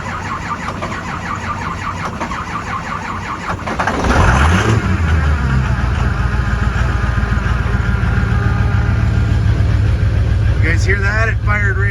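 A 2005 Ford F250 with the 6.0L diesel cranks, catches at about four seconds and settles into a loud, steady, close idle, with a voice speaking over the engine near the end.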